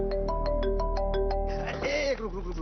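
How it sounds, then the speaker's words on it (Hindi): A mobile phone plays a melodic ringtone, a run of quick, evenly spaced electronic notes that gives way to a denser, louder burst of the tune. "अरे ये साहू ना गलत समय फोन करता।"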